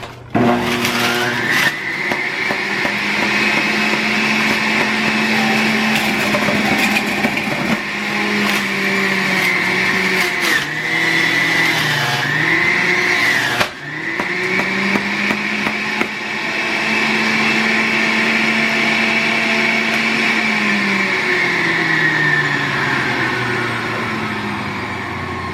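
A juicer grinds spinach and a piece of ginger, a loud steady motor whine that keeps going throughout, with its pitch dipping and recovering as the greens are pushed through and a brief break partway.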